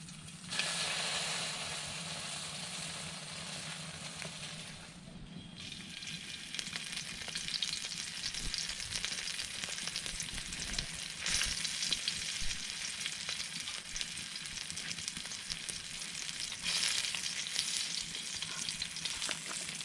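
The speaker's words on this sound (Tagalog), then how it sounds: "nagprito din ako guys ng daing" Dried fish (daing) frying in oil for breakfast, a continuous close crackling sizzle with popping spatters that holds steady for about twenty seconds, dipping briefly before surging again.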